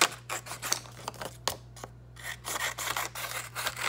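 Scissors cut a sheet of paper into long strips, with repeated close snipping and rustling strokes in a quick irregular rhythm and a short pause midway. A low steady hum sits underneath.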